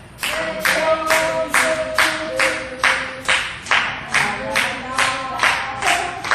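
A church congregation at a prayer retreat in Cheonan claps hands in unison, a steady, loud rhythm of roughly a dozen evenly spaced claps with voices faintly underneath.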